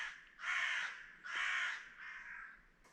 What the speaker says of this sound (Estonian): aga varesed kaklevad